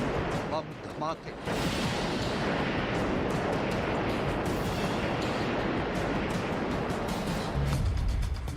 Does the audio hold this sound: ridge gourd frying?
no